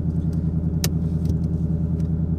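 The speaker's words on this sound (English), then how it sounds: "So now I'm just go ahead and take this car on a little bit of a," A Ford Mustang with an MT82 manual transmission driving along, giving a steady, close, low engine rumble with one brief sharp click and no voices.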